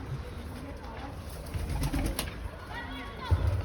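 Pigeons coo softly on a balcony in low, repeated murmurs close by, over a steady background hum with faint voices.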